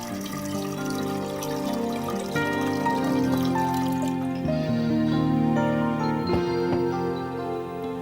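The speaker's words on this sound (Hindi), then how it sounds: "3 से 4 कप पानी डालेंगे।" Water runs from a tap into a pressure cooker while making tomato and bottle gourd soup, a steady pouring trickle whose pitch rises as the pot fills, with no talking.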